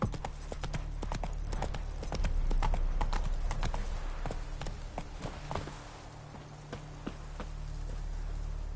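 Roach, Geralt's horse in The Witcher video game, galloping with rapid, rhythmic hoofbeats that stay close and steady for the whole stretch, over a low rumbling game ambience.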